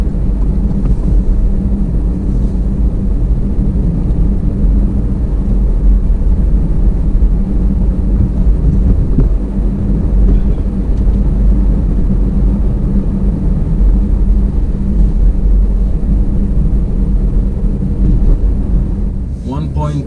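A 2018 Alfa Romeo Stelvio accelerating hard after a drive-mode change, heard from inside the cabin as a loud, continuous low engine and road roar, steady throughout, with faint wind noise.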